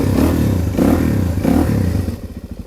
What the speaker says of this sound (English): I'm gonna take the Supermoto out